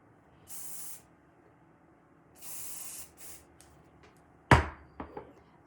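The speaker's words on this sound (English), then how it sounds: "Just using a little wig wax and hairspray, and that really works wonders" Hairspray hisses onto a wig in three short bursts, two longer sprays and a brief one, followed by a sharp knock and a few light taps nearby.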